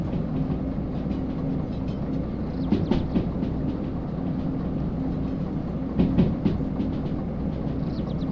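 A train runs in the railway game Derail Valley, giving a steady heavy rumble with rhythmic clickety-clack wheel beats and occasional metallic clunks, with no speech.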